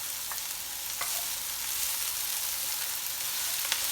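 Garlic sizzles steadily in a hot frying pan, a continuous crackling hiss with a few brief clicks of stirring, close and alone without any talk.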